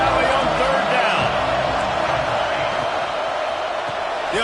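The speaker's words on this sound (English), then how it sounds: "Here comes the noise from this big crowd in Happy Valley on third down" Huge college football crowd at Penn State's Happy Valley stadium during Washington vs Penn State, roaring steadily and loudly on third down, a dense continuous wall of noise.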